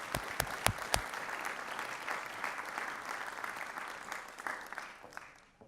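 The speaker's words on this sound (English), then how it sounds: "Whoever started the clapping first" An audience at an RTS London talk on diversity and inclusion in TV claps with a few loud, sharp claps up front, then settles into steady applause that fades out toward the end, with no speech.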